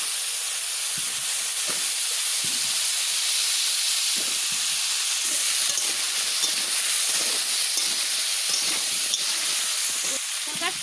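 Papaya pieces drop into hot oil already heated from frying fish, giving a steady loud hiss and sizzle with faint crackles and stirring clatter throughout, no voices.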